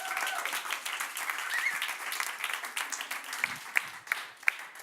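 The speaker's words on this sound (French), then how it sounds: "Nos applaudissements en salle pour Alexandre Soulière" An audience in a hall applauds at a public unveiling event, a continuous wash of clapping with a few sharper, closer claps standing out near the end; no one speaks over it.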